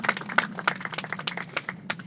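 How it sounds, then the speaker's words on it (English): Scattered clapping from a small audience at a groundbreaking ceremony for a housing development in Long Beach, fairly faint and uneven, brief and without voices. "Let's give them another round of applause."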